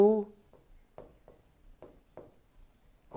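A pen scratches across paper in short strokes during an English lesson, fairly faint and close, with a teacher's voice speaking briefly at the start.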